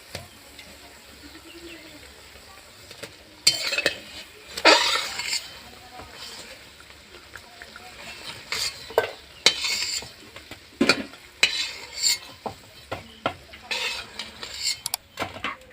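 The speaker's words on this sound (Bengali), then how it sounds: "বাকিগুলো একইভাবে ভেজে নেব।" Raw potato snacks frying in a pan of oil, with a soft steady sizzle broken by frequent clinks and scrapes of a utensil stirring and turning the pieces.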